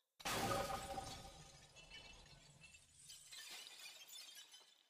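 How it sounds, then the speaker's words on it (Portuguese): A sudden crash of breaking glass or crockery, followed by scattered clinks and rattling clatter that fade and flare again. "Pratos se estilhaçando, talheres sendo remexidos dentro das gavetas, panelas sendo arremessadas"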